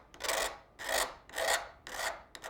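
Four rhythmic rasping strokes of a file scraping a rough edge smooth, close and clear, each pass about half a second long with brief pauses between, no voices present.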